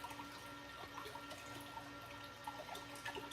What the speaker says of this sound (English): I'm trying to get some water here.